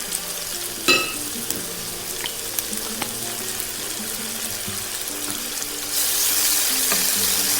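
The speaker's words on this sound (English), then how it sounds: "Stir fry it." Doubanjiang chili bean paste stir-fried in a wok as part of a Hunan-style soft tofu dish, a steady close sizzle with a few scraping clinks early on, the frying hiss growing louder near the end.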